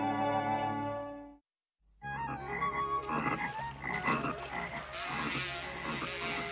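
Frog croaking in a Smurfs cartoon as Mother Frog appears in the forest, a run of loud, close croaks set against cartoon music and effects, with a short silent gap near the start.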